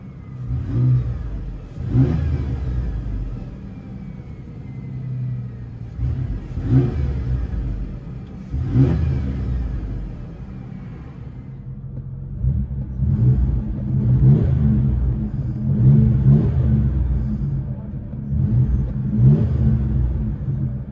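A Ford Ranger 3.0L V6 with straight-piped exhaust revs repeatedly, heard from inside the cab: about eight short throttle blips rising and falling over a steady deep idle rumble, with no talking.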